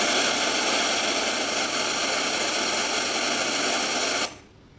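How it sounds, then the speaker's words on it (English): A steady, broadband hiss of pink noise plays evenly, deeper and softer than white static, then abruptly stops near the end. "So that's how the pink noise sounds."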